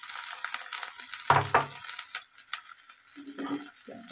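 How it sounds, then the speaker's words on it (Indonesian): Long beans tumble into a pan of frying garlic for a stir-fry, a sudden close clatter and sizzle burst that eases into a low hiss, followed by light stirring and scraping. "Sudah berasa harum bawangnya, kita masukkan kacang panjangnya juga."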